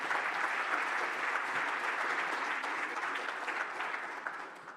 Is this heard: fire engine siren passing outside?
no